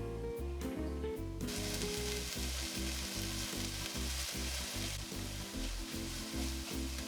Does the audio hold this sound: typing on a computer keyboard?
no